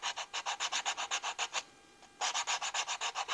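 Sandpaper is rubbed by hand over a small wooden piece of a model skiff in steady, rapid back-and-forth strokes, close and alone. There is a brief pause partway through before the rhythm resumes.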